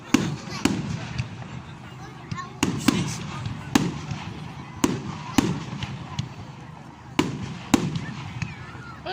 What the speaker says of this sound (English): there's some people setting fireworks over in the background